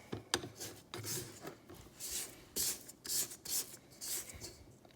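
A spatula scrapes butter off the side of a mixing bowl while making snickerdoodle cookie dough, a series of short, close rasping strokes in uneven bursts, moderately loud, with no talk.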